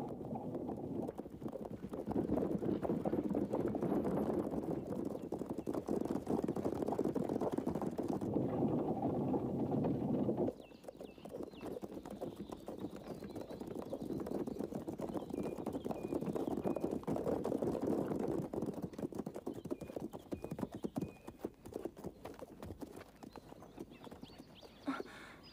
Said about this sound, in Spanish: Parecen soldados a caballo.